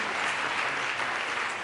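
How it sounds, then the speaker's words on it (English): Steady applause from a crowd at a COP26 climate panel, continuous clapping at moderate volume with no pauses. "round of applause, thank you"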